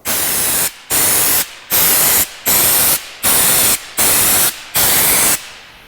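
A spray gun lays down LizardSkin sound insulation coating in seven loud, even bursts of hissing spray, each about half a second to a second long, separated by short silent gaps in a steady rhythm.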